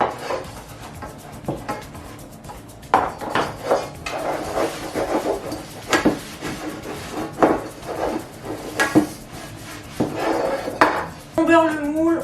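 Utensils scrape and clatter against a round cake tin as butter is spread inside it, with irregular close knocks and clinks, plus a brief voice near the end.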